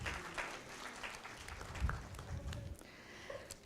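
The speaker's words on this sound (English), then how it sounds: "Please applaud His Excellency." Audience applause at a panel discussion on South Asian regional conflict and cooperation, quiet and somewhat distant, with scattered claps and light room noise.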